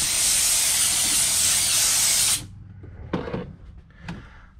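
A steam cleaner sprays into a car engine bay with a loud, steady, broad hiss for about two seconds, then cuts off, followed by a few short knocks and handling clatters.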